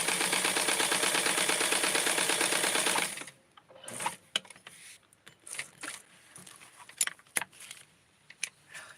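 A small sewing machine stitches a little schoolgirl dress for a Blythe doll, running in a fast, loud, even rattling hum for about three seconds, then stopping, followed by scattered clicks and fabric handling.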